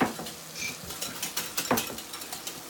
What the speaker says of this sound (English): You can actually kind of hear that little popping sound.